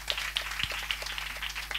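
A church congregation claps, a quick patter of many hands spread over under two seconds, faint and steady with no voices over it.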